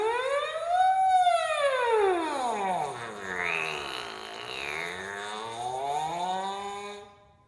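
A horn mouthpiece buzzed alone in a siren warm-up exercise, one continuous breath gliding up, then sweeping down low, rising again to the middle and fading out, clear and close.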